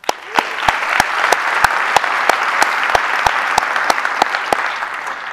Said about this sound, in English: So let's give a round of applause to President David Krakauer and Vice President Jennifer Dunn.